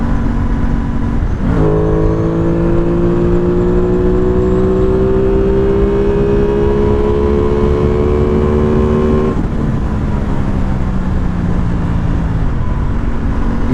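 An Aprilia Tuono 660 motorcycle engine is pushed hard: its pitch climbs steadily for about eight seconds, then drops back as the throttle eases, with a continuous steady drone and no voices.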